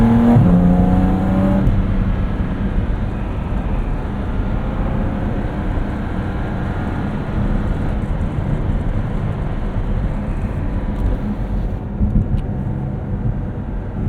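A 2023 Porsche 718 Cayman GT4 RS drives on, its engine a loud sustained roar heard from inside the cabin, steady throughout with slight swells as it pulls.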